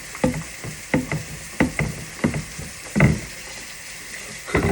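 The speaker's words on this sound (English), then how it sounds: "cooking me a little breakfast sandwich." Repeated clatters and scrapes in a kitchen while a breakfast sandwich is being made, short sharp knocks at irregular intervals over a low steady background hiss.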